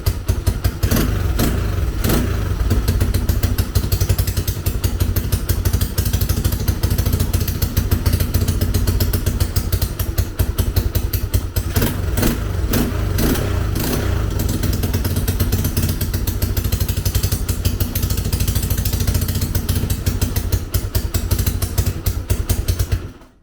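A rebuilt 2000 Honda XR200R motorcycle engine runs steadily at idle, loud and close, with a constant low throb and light mechanical clatter and no talk.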